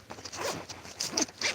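Zipper pulled in several quick bursts, close and fairly quiet, with short gaps between the strokes and no voices.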